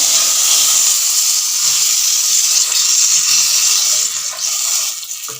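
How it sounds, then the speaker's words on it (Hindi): Hot oil is poured over cooked goat trotters for bakray ke paye, giving a loud, steady steam-like sizzle and hiss that holds throughout and eases slightly near the end. "अब इस ऑयल को हम इन पायों के अंदर डालेंगे"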